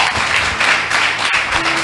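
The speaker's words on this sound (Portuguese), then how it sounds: "Bate palma e glorifica, bate palma e engrandece." A church congregation applauds steadily in a dense, continuous wash of clapping that fills the room, loud and sustained without a break.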